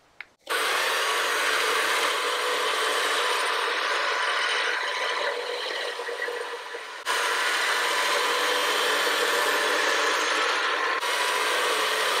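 A trail-rig winch reels in its cable with a steady, loud mechanical grinding and ratcheting whir that runs almost unbroken for about eleven seconds, briefly easing off near the middle before resuming at full strength.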